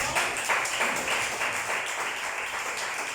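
A church congregation applauds after a pastor's sermon: dense, steady clapping from many hands, fairly close and sustained through the whole moment, with no voices standing out.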